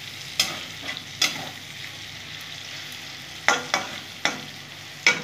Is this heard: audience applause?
no